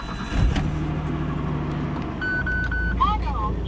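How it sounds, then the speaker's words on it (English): A Nissan S15 Silvia sports car engine starts up close by, turning over and settling into a loud, rough idle, with a brief electronic beep partway through and faint background talk. "I just started my very loud sports car here."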